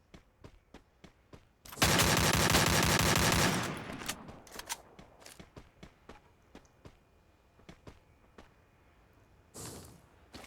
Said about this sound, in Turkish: Arkamdan birisi sıkıyor.